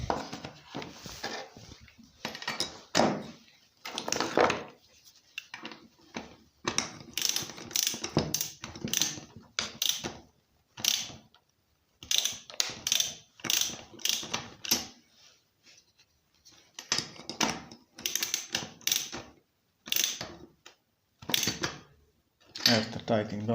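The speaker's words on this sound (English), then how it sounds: "After that we can tighten the spark plug." A ratchet wrench tightens the spark plug on a Fieldmann chainsaw, giving close, loud bursts of rapid clicking that start and stop repeatedly, separated by short pauses.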